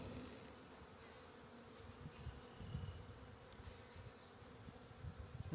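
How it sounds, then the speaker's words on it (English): A low, steady hum of many honeybees buzzing close by at an open hive, faint overall, with a few individual bees droning past. "I probably ought to be shaking these bees off."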